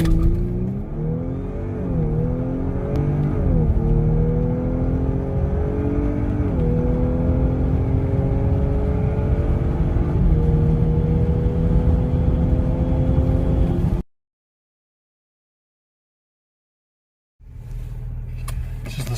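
An Audi B9 S4 fitted with a 034 Motorsport intake accelerates hard in a straight-line eighth-mile run, its engine note climbing through several gear changes, loud and close for about fourteen seconds before cutting to silence, then a brief return of engine noise.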